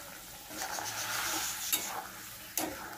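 Masala for chicken kasha is being stirred and fried in a pan, with a soft, steady sizzle and a few sharper scrapes and knocks of the spoon against the pan, fairly quiet and close.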